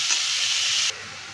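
Chicken pieces fry lightly in a pan with a bright, loud sizzling hiss that cuts off abruptly after about a second, leaving a quieter background.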